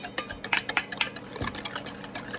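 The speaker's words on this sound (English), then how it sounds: "now I'm just gonna give it a nice little stir" Hot wing sauce being stirred and whisked in a bowl, a quick run of close clinking and scraping taps in an uneven rhythm over a short stretch.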